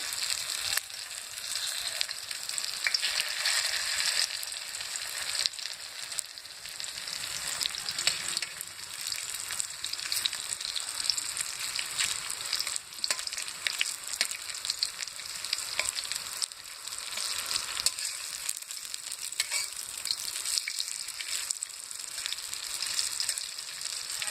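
Jackfruit-leaf fritters fry steadily in hot oil, a continuous close crackling sizzle with no pauses or voices.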